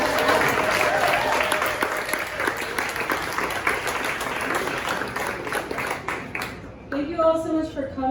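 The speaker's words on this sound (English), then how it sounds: "now let's have a round of applause for our lady" An audience at a literary reading event breaks into sustained applause, a dense wash of clapping that runs for several seconds before fading, with a voice starting to speak over the tail end.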